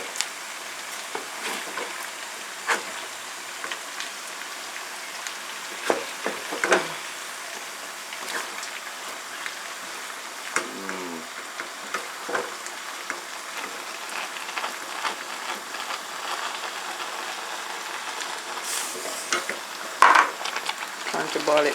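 Banku dough being turned and stirred in a pot as it cooks, a soft continuous sizzle and bubbling with occasional scraping thumps of the spoon, moderately close, with faint background voices.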